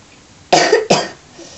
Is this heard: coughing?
yes